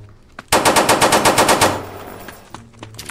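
A loud burst of about a dozen rapid automatic shots rings out in a Roblox shooting game, followed by a faint tail and a few quiet clicks, with no talking.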